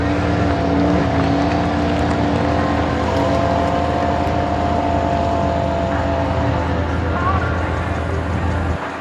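A car doing a burnout power skid at a drag racing event, a loud sustained engine roar with a wavering pitch and the rough hiss of spinning tyres. It carries on without a break.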